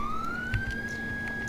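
A police car siren wails in a single rising tone that holds steady, loud and fairly close, over a low idling rumble with some background noise.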